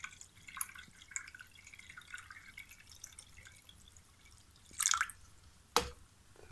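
Water is poured into the cooling section of a homemade apparatus with cylinders and a compressor: soft, scattered drips over a quiet background, then two brief louder splashing bursts near the end.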